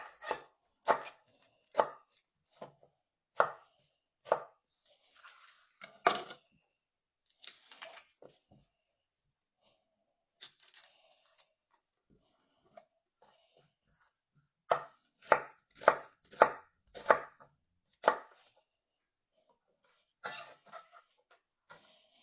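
Knife chopping onions on a board for an Indian curry base, in short quick bursts of sharp, close taps, often in threes, separated by quiet pauses.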